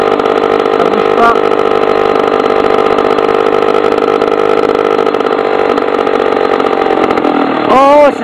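Engine idling at a steady, loud, even drone with a constant pitch that holds throughout, then a brief rising rev near the end.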